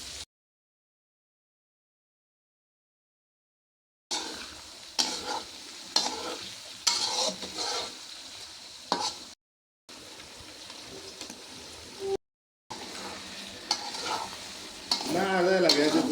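Beef curry frying and being stirred in a pot on a clay stove on a village veranda, with bursts of sizzling and scraping spoon strokes broken by short silent gaps, growing louder and busier toward the end.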